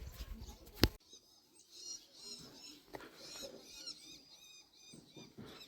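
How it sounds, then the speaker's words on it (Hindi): A bird calls softly in the distance in the mountains, repeated chirps over faint outdoor ambience after a brief sharp knock at the start. "पता नहीं किसी चिड़िया की आवाज़ आई है"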